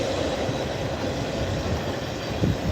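A train bound for North Platte passes at speed close by, giving a steady, loud rumble of wheels and cars with faint rhythmic clatter and no voices.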